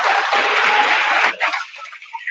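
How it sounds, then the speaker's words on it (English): Audience giving a round of applause at a league awards ceremony, dense clapping that holds steady then breaks off abruptly, leaving a few scattered claps trailing away. "Let's give him a round of applause."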